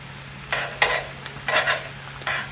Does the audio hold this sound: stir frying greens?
yes